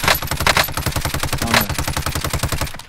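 Rapid automatic gunfire in Call of Duty Modern Warfare, a dense, loud, continuous burst of closely spaced shots lasting the full three seconds.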